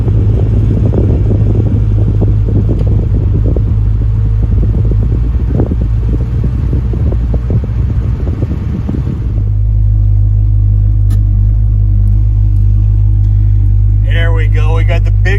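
Car driving toward Irwindale Raceway, its cabin filled with a loud, steady low rumble and road drone that grows even heavier partway through, with brief speech near the end.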